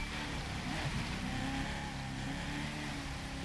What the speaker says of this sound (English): Downshift sound. Vroom.